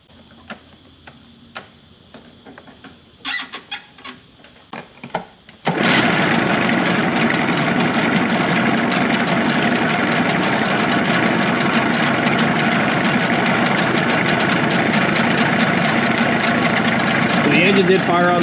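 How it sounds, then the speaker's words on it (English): A few quiet clicks and knocks, then a Mercury outboard motor bursts into life on the first pull and keeps running loudly and steadily to the end. "Let's fire up this engine and let's see what it can do."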